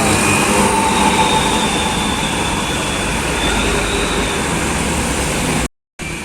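A tour bus on a road from the Jombang direction, heard as a loud, steady roar of a large vehicle passing close by, with no talk over it.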